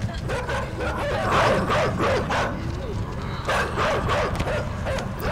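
Dogs in the video game Inside bark and yip repeatedly in short bursts, fairly close, with a few whimpering sounds between the barks.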